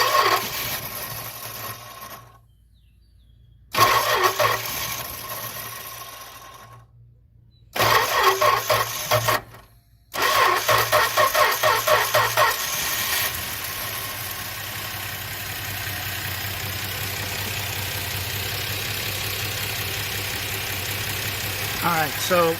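An engine fitted with a compression gauge cranks in several short loud bursts separated by silent pauses, then catches and settles into a steady running idle.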